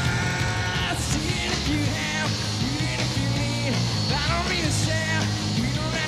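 Argentine concert crowd at a 1992 show in Argentina, yelling and chanting olé in a loud, continuous mass of voices with rising and falling melodic contours.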